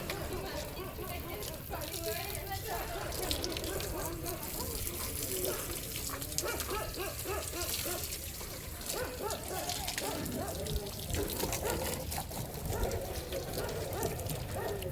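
Water spraying from a hose pipe while two motorbikes, one an Enfield, are washed outdoors, a steady hissing splash under frequent nearby talk and background voices.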